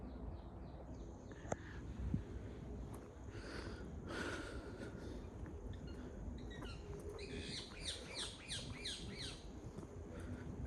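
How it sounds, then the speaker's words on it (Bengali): A parrot squawks faintly outdoors in a quiet, open setting, giving a few scattered calls and then a quick series of sharp, rhythmic squawks near the end. "এই যে টিয়া পাখি দেখছেন"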